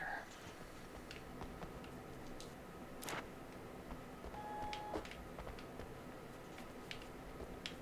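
A printer whirs and ticks in a room in the video game Alan Wake's American Nightmare, a faint, steady mechanical hum with soft scattered clicks and a brief tonal beep, heard alone at low volume.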